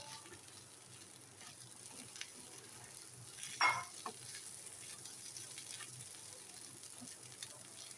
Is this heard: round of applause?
no